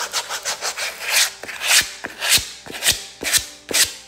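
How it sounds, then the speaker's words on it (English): Vans shoes are sanded and scuffed to prepare them for glue, making loud close rasping strokes in a steady back-and-forth rhythm, about two per second, with no voice. "you're going to sand. And you just want to scuff them up."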